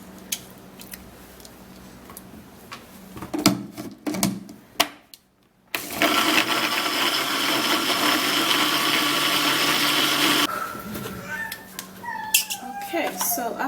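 A blender grinds an ice and water mixture in a loud, steady whir lasting about five seconds, preceded by clinking and tapping of kitchen items and followed by more clatter as it stops.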